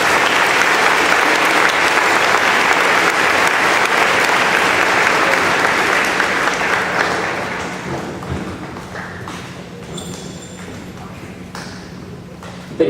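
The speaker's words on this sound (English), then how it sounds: "one more round of applause for these students." Sustained audience applause at a student award ceremony, loud and dense at first, then thinning out and fading toward the end.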